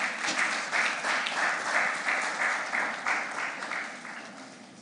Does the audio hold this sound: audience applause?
yes